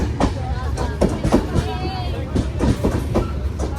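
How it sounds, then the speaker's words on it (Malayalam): Train at Kanhangad railway station, a steady low rumble with repeated rhythmic knocks of wagons passing close, under a general station din. "കാഞ്ഞങ്ങാട് റെയിൽവേ സ്റ്റേഷനിൽ എത്തി"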